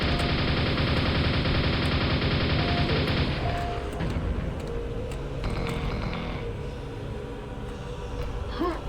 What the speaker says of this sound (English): I'm just gonna keep shooting here